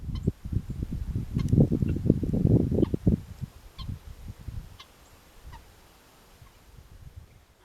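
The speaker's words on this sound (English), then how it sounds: "if you haven't seen guinea hens, this is what they look like" Guinea hens call outdoors in a noisy, overlapping flurry of harsh, honking cries that peak loudly, then thin out to scattered fainter calls.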